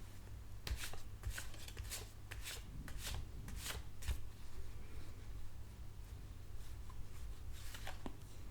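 Oracle cards being shuffled and drawn in a quiet ASMR setting, with bursts of soft papery riffling and card slides close to the mic, gentle and unspoken.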